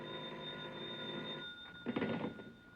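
A telephone bell rings steadily as a sound effect in a 1950 radio drama, a bright continuous tone that turns into a louder rattling burst of ringing near the end, with no voices.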